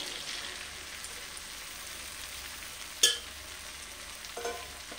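Soaked green peas with chopped coriander frying in a pan for ghugni, a soft steady sizzle with a sharp clatter near the middle and faint stirring scrapes toward the end.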